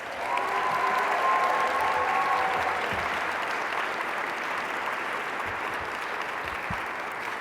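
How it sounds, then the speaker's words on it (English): An audience at a women's impact awards ceremony gives the honorees sustained applause, a dense wash of clapping that holds steady for several seconds before slowly thinning. "Join me in giving tonight's honorees another round of applause"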